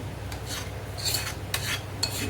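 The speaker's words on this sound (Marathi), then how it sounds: "दुसऱ्या भांड्यामध्ये आपण त्याला गाळून घेऊया गाळणीने सर्व मिश्रण" Cashew batter flavoured with cardamom is pushed through a kitchen strainer into another vessel, giving a few soft, irregular scraping rasps of spoon against mesh over a low steady hum.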